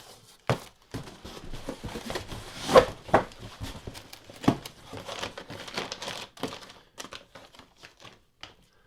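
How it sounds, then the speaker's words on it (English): Packing tape crinkles and rips as it is pulled and pressed down over a cardboard box flap during an unboxing of graded video games, with irregular crackling bursts and a few sharper tearing snaps, close and moderately loud. "I'm going to tape down this flap here so it stays out of our way"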